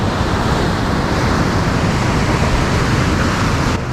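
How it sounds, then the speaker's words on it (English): Wild North Sea waves breaking on the shore at a seaside town give a loud, steady roar of surf with wind rushing across the microphone, continuous throughout with no voices. "Look how wild these North Sea waves are."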